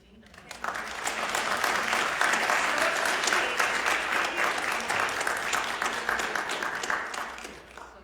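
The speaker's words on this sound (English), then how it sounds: "give a round of applause to Meg Medina" An audience at a fireside chat with author Meg Medina breaks into warm applause, dense steady clapping that swells in quickly, holds for several seconds and then fades.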